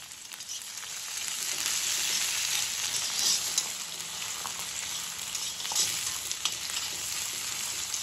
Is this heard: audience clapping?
no